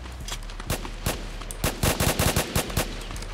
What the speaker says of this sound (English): Oh, my God, he's shooting me.